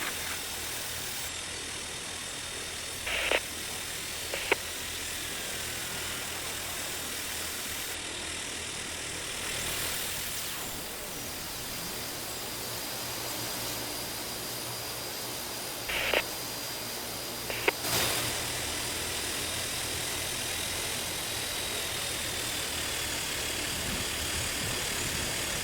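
Jet airliner taking off from Runway 10 at St. Thomas in Tower! Simulator 3 in the rain, a steady broad engine roar that holds for the whole stretch, with a few brief clicks and ticks over it and no talking.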